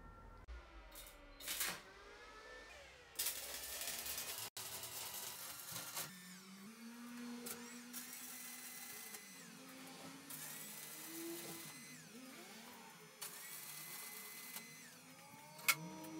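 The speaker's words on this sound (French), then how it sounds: "je vais souder comme ça" Arc welding on a steel workbench frame, with crackling, buzzing bursts of several seconds each, stopping and restarting through a steady workshop background.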